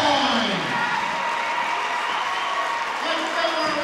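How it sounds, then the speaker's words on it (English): Fans in a high school girls basketball gym applaud a player's 1,000th career point, steady crowd clapping and cheering filling the hall under a PA announcer's voice. "Let's give her a round of applause for our fans."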